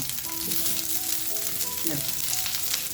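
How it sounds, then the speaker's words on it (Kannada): Cauliflower frying with onions in a pan gives a dense, bright sizzle throughout, with faint tonal hums and a brief stir near the middle, close-up and without speech. "ಇದನ್ನು ಸ್ವಲ್ಪ ಫ್ರೈ ಮಾಡ್ಕೊಳ್ಳೋಣ ನೋಡಿ ಈ ಥರ ಫ್ರೈ ಮಾಡ್ಕೊಳ್ಳೋದ್ರಿಂದ ಕೂಡ ಚೆನ್ನಾಗಿರುತ್ತೆ"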